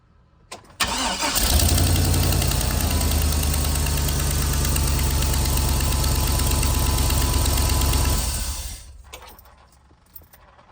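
Chevy Express 3500 van engine with exhaust leaks cranks and catches, then idles steadily and loudly for several seconds before shutting off and fading.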